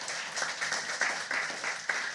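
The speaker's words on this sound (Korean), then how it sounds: "박수로 환영해 주시기 바랍니다." Church congregation applauding to welcome guests, a soft, fairly distant patter of clapping that holds steady for a couple of seconds.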